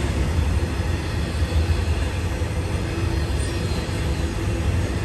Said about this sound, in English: there's the end of train number 1